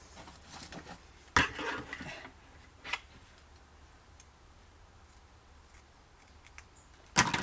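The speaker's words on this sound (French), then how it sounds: "Alors, je vais aller ici, au centre, couper ici, un petit ciseau." A few crisp, separate snips of small scissors cutting ribbon for a scrapbooking album, quiet and close, with long near-silent gaps between cuts.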